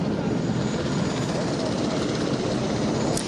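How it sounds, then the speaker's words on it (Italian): A helicopter flies overhead during severe bad weather, its rotor and engine roar loud and constant, with a faint voice beneath the noise. "intanto sta arrivando un elicottero"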